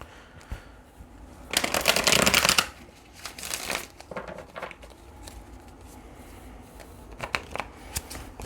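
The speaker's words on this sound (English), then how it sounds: "Let's pull some tarot here, because this tarot is definitely going to give us a little bit more insight." Tarot cards shuffled close up: a dense riffling burst, followed by softer scattered flicks and taps of cards being handled, quiet overall.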